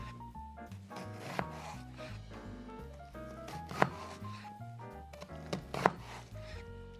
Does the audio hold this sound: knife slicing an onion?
yes